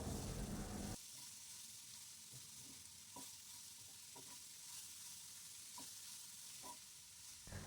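Chopped cabbage for Kerala mezhukkupuratti sizzles softly as it is sautéed in a pan, with a faint, even frying hiss and occasional light spoon clicks every second or so.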